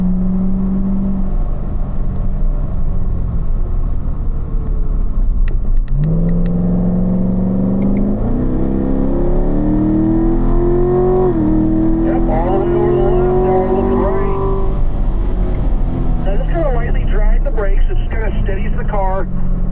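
A Corvette accelerating on a race track during a performance driving school lap, its engine rising through the gears with repeated pitch climbs and shifts, loud and close, under a voice talking.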